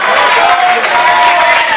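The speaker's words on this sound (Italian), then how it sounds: "un applauso a Puttu" Wedding guests applauding at a reception party, a dense continuous burst of clapping filling the whole moment, loud and close with a crowd around.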